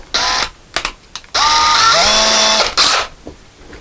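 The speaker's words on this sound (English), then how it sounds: "let's put our 3/16 drill bit in the drill" A handheld drill fitted with a 3/16 drill bit gives a few short bursts, then one sustained whir of about a second that climbs in pitch before cutting off, close and loud.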